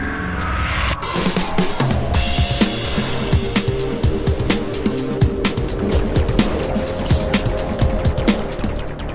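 Formula E race cars speeding through the Tokyo ePrix in a racing video game, a steady synthetic electric whine with repeated sharp clicks and bursts of tire noise throughout, fairly loud and with no talking.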